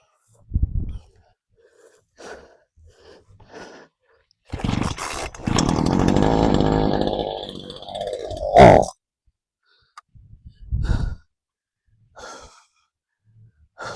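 Chainsaw among thorny trees, apparently struggling to stay running: a few seconds of loud, close rough engine roar that sputters out, surrounded by heavy breathing, sighs and grunts.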